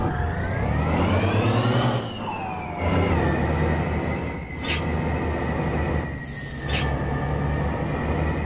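Modded bus driving in American Truck Simulator on Guayaquil, Ecuador roads, its engine droning and climbing in pitch through repeated gear shifts, with two brief sharp bursts of hiss along the way.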